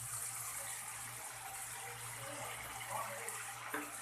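Water poured into masala paste cooking in oil for an Odia catla fish curry gives a steady, close rushing hiss. It runs without a break for about four seconds, with no voices.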